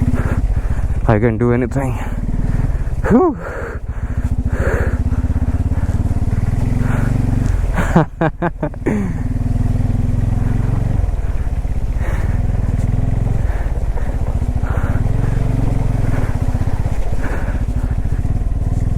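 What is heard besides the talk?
Bajaj Pulsar N250 motorcycle riding off-road through mud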